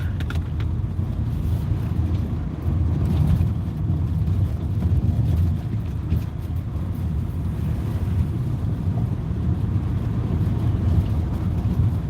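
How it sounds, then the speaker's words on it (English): Steady low road rumble and rattling inside an old car while driving, a continuous droning noise with wind buffeting and no talk. "Sounds like this thing's rattling apart."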